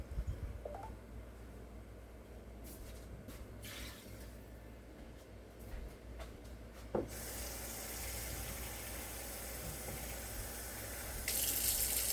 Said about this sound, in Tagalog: Lalagyan ko na po ng maraming tubig kasi kailangan yan